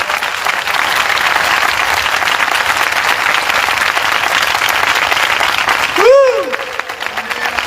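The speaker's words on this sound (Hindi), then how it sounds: "आइए यीशु के लिए जोरदार ताली बजाएंगे।" A church congregation clapping for Jesus, sustained loud crowd applause with cheering, and a brief rising then falling whoop near the end.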